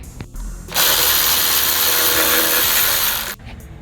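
Power tool spinning off 10mm bracket bolts on a 2017 Toyota Yaris during clutch replacement, one loud continuous whirring burst of about two and a half seconds, close by, with quieter mechanical sounds before and after.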